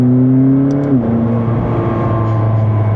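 McLaren 600LT Spider accelerating hard in second gear in manual mode, a loud close engine roar whose pitch climbs and then shifts into a steady high drone, with no talking.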